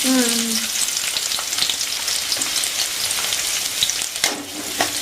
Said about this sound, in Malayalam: ഇനി കടുക് പൊട്ടിക്കഴിയുമ്പോൾ നമ്മൾ ഈ ഉള്ളി ആദ്യം അങ്ങ് ഇടണം